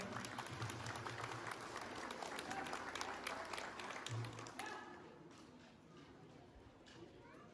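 Crowd applause at an outdoor civic ceremony for a community anniversary in El Quelital, Guadalcázar, San Luis Potosí, a steady distant patter of clapping that thins out toward the end, with voices mixed in.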